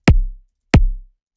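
Two layered kick drum hits, each a sharp click on top of a deep sub-bass body that rings out briefly, spaced evenly about 0.65 seconds apart with silence between them.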